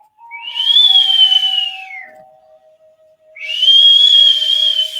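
Two long, eerie whistled tones, each rising and then sliding down, separated by a quiet pause, loud and close with nothing else around them.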